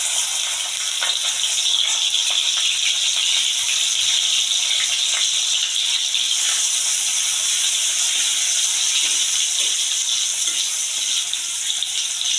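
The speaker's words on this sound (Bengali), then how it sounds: "তেল গরম হয়ে গেছে, আমি এখন পেঁয়াজটা দিয়ে দেবো।" Onion dropped into hot oil for a Bengali dish of peanuts with kalmi greens, giving a steady, loud, close hissing sizzle that holds evenly throughout.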